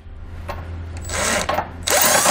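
A power tool with sockets tightens trailer hitch hardware on a 2019 Dodge, giving short loud whirring bursts close by, with a few brief knocks before them and a sustained burst at the end.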